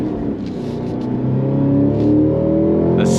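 The V8 engine of a 2026 Cadillac CT5-V Blackwing revs up loud and close, its deep rumble climbing steadily in pitch over a few seconds.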